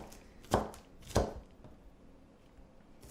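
A knife chops through a very large onion on a cutting board in a home kitchen, giving three sharp, close thuds spaced about half a second apart and then a pause.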